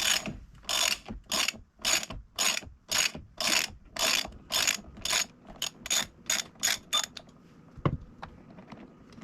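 A hand ratchet fitted with a 12-point triple square bit works a steering wheel bolt on an MK7 GTI, giving a long series of rapid, close clicking strokes in an even rhythm that slows and fades near the end.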